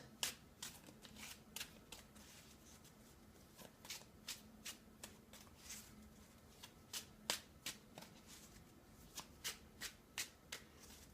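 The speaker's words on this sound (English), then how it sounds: "Now I'm just going to continue to shuffle the deck a bit more until I feel that the cards are ready for a" A deck of tarot cards is shuffled by hand in quiet, crisp riffling bursts repeating at an irregular rhythm, close and soft with no talking.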